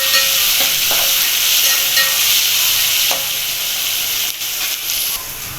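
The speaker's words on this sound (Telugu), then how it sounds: "ఆనియన్స్ తొందరగా ఫ్రై అవ్వాలంటే మనం కొంచెం సాల్ట్ వేసుకున్నామంటే ఆనియన్స్ తొందరగా ఫ్రై అవుతాయి." Sliced onions with salt fry in a hot pan, a bright steady sizzle and hiss with occasional stirring scrapes and soft clatter, close and continuous.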